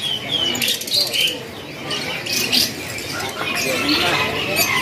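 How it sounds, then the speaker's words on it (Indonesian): Caged lovebirds and local canaries at the Pramuka bird market in Indonesia chirp and trill in bright, overlapping bursts, with someone talking over the birdsong throughout. "ini sebagian pilihan burungnya dari jenis burung lovebird"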